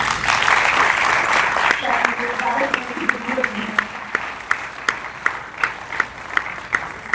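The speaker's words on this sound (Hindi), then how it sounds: "और तालियां जरा" An audience at a stage event claps in a warm burst, with voices over the sound. The applause thins into a few sharp, evenly spaced claps.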